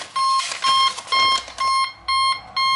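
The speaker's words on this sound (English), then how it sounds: "intermittent tone enables programming of timers" An alarm panel gives an intermittent programming tone, short bright beeps in about six evenly spaced bursts, loud and close, with no talk over them.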